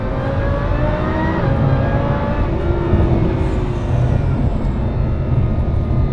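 A supercharged Lamborghini Huracan engine drones loud and steady with rising whining tones, a sustained roar under acceleration heard from inside or near the car.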